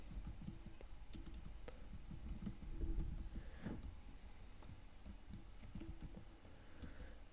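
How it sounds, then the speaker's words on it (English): Faint, steady typing on a computer keyboard, with quick irregular key clicks over a low background hum. "Then we'll need to type in the name of the material page route."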